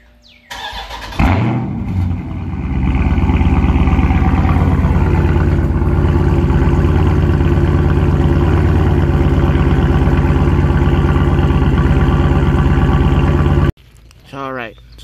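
A Dodge Charger Scat Pack with Carven exhaust tips cranks and fires, flaring loudly then settling into a deep, steady rumbling idle for about twelve seconds before shutting off abruptly, close by with brief talk afterward.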